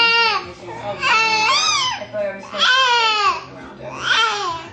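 A young boy screams and cries loudly in repeated wailing bursts, rising and falling. Each outburst swells and then breaks off for a moment before the next one begins, all close up.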